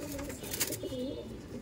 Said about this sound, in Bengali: মানে সব ধরনের ম্যাড্রাসি পায়রা ও আপাতত রাখা আছে কাছে